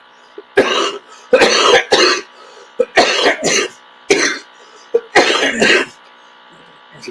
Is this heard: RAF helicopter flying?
no